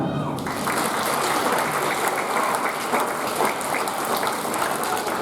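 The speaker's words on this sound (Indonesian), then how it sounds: "Tepuk tangan." Applause from a congregation at a school's First Friday Mass, a dense steady patter of many hands that fills the whole stretch at even loudness, with some voices mixed in.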